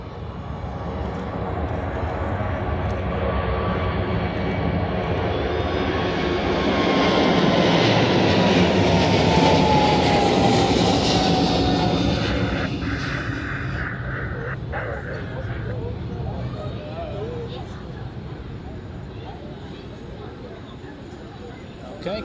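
A Swiss A350 airliner at Zurich Airport rumbles through pushback, its engine roar swelling to a loud peak midway and then easing off, with a voice talking over it.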